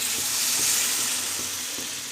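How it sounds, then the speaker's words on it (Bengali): Soybean and potato curry with sautéed spices sizzling loudly in a hot pan as water hits it, a continuous bright hiss with a few soft rhythmic stirring knocks underneath, close and alone without voices. "সোয়াবিনটা আমার কষানো হয়ে গেছে পাঁচ মিনিট ধরে কষিয়েছি এবার জল দিয়ে দেবো"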